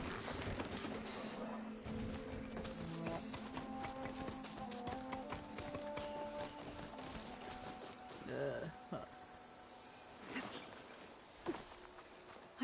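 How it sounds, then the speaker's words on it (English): Horse hooves clip-clopping at a steady running rhythm in a video game, continuous and fairly close, with a few sharper taps along the way and a voice talking at times. "My horse!"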